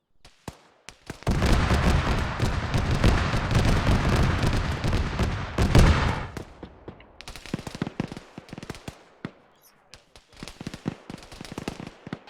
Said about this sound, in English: I hear more shots up there.